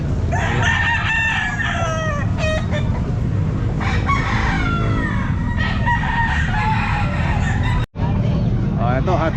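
A bull stag rooster crows repeatedly at a busy Calumpit pet market, loud and close, over steady crowd chatter and traffic noise, with other fowl clucking nearby and people talking throughout.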